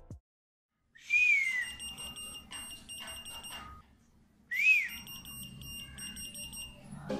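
A budget whistle-activated key finder answers two short rising whistles, each followed by a run of thin, high electronic buzzer beeps. The beeps are fairly quiet and close, in an otherwise still room.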